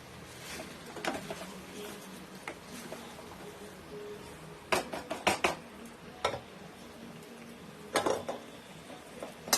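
Chicken curry is moved into a pressure cooker with sharp metallic clanks and scrapes of a spoon against metal pots, clustered in irregular bursts over a low kitchen background.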